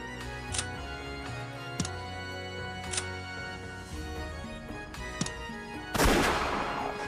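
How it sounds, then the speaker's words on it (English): A single sharp gunshot from an Umineko visual novel bursts out loudly near the end, after several seconds of sustained music with soft ticking accents. "a gunshot could be heard"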